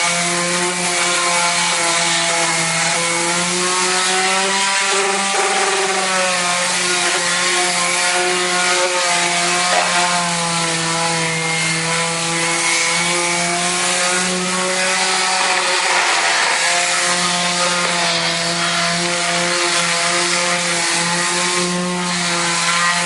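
A power sander runs steadily on dried drywall joint compound over a patched wall repair, a loud continuous whine with a steady tonal hum, close and alone for the whole stretch.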